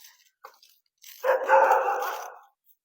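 Several dogs barking outdoors on a street, a few short faint yelps first, then a louder, sustained burst of overlapping barks from fairly close by.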